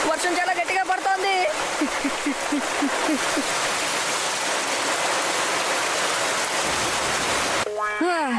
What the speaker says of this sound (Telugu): వర్షం చాలా గట్టిగా పడుతోంది